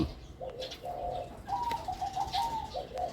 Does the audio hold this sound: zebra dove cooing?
yes